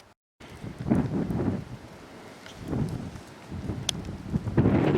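Gusty wind buffeting the microphone in rumbling waves on an exposed December hillside in the Quantocks, rising and falling, loud and close, with no voices.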